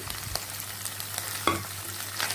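Steady, soft sizzling of onions and green chilies sautéing in a pan for prawn gravy, with faint clinks of stirring now and then.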